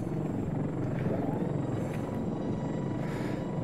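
An MQ-12 Falcon helicopter drone in the video game ArmA 3 hovers with a steady, close, continuous rotor chop and engine drone throughout.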